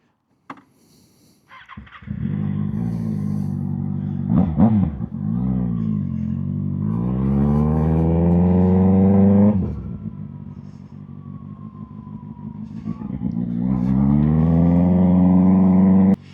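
A 636 motorcycle starts and accelerates on a ride, its engine rising in pitch through the gears, easing off briefly, then revving up loudly again near the mic.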